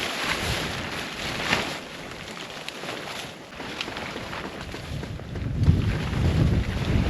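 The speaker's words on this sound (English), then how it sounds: "And the wind's blowing." Wind gusts at a winter tent camp in sub-zero cold, a broad, continuous rushing roar buffeting the microphone, rising and falling in strength and swelling louder toward the end, with no talk.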